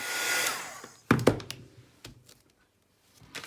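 Hair dryer blowing on Mod Podge-coated art journal pages makes a brief, breathy roar that fades out, followed by a few sharp knocks and taps from handling on a tabletop.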